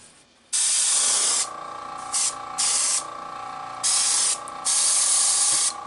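A fishing lure is spray painted in several close, loud bursts of aerosol hiss of varying length, separated by brief quiet pauses.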